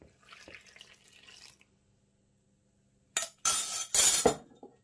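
Yeast and water mix is poured into a well of flour for basic bread, heard as a short splashing, trickling pour in a few quick bursts after a quiet pause, close to the bowl.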